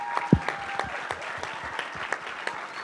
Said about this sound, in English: one more round of applause for our contestants